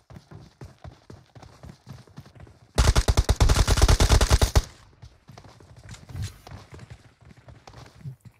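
Gunfire in the PUBG video game: a sustained, rapid automatic burst lasting about two seconds, set between quieter stretches of light footsteps and sparse clicking.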